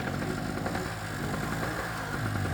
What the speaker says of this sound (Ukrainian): Щоб забезпечити наше містечко світлом, ми притягли з собою бензиновий генератор.